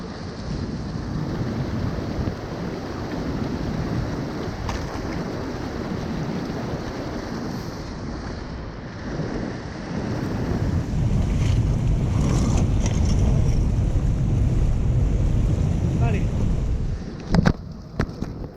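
Water of a half-frozen Himalayan river being crossed, a steady broadband rush and splashing with wind buffeting the microphone, louder in the second half with a brief knock near the end.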